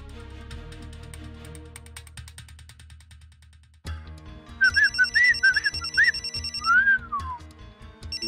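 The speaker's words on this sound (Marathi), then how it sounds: "माझ्या वहिनींचो फोन इलो" A mobile phone ringtone plays in a domestic scene from a television serial, a repeating electronic melody of chirpy tones that enters midway over a low music bed and carries on steadily to the end.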